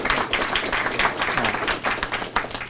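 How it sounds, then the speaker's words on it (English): A room full of people applauds at a police department event with steady, dense clapping throughout that is moderately loud and close, and there is no speech over it. "give these two guys a round of applause"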